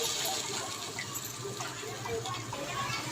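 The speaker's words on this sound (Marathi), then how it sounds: "आता मी याच्यात पाणी ओतते." Water is poured into a hot tempering of asafoetida, cumin and chilli for horse gram flour shenguli, giving a soft, steady gushing splash at low volume.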